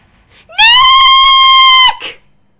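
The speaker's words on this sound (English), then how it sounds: "I'm allowed to scream as much as I want." A person lets out one loud, sustained, high-pitched scream lasting just over a second, close and clear, followed by a short breathy sound.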